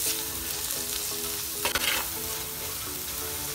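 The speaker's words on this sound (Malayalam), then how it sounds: "ഇനി നമുക്കിതിലേക്ക് ഒരു തക്കാളി മുറിച്ച് വെച്ചതാണ്, അത് ആഡ് ചെയ്യാം. ഇത് നന്നായി വഴന്നു വരണം തക്കാളി." Chopped tomato for chicken curry sautés in a hot pan with a loud, continuous sizzle, and one brief burst of stirring scrape midway.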